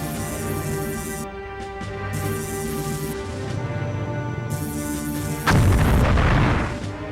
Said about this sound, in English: we're just going to... going to fly up to these asteroids and shoot them